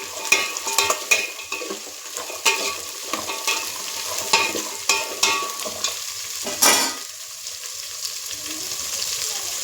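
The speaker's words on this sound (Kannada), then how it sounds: "ನವಿಲುಕೋಸು, ಕ್ಯಾರೆಟು, ಹೂಕೋಸು, ಬೀನ್ಸು ಇವೆಲ್ಲ ತರಕಾರಿ ಹಾಕಿ ಎಣ್ಣೆಯಲ್ಲಿ ಸ್ವಲ್ಪ ಫ್ರೈ ಮಾಡೋಣ" Knol-khol, carrot, cauliflower and beans frying in oil for a veg biryani, with a soft continuous sizzle under repeated scraping stirs of a spoon against the pan, close and fairly quiet.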